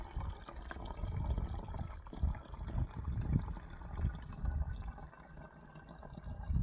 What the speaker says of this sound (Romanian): Torn apa direct în sticlă ca să nu se prindă acidul și zahărul de pâlnie.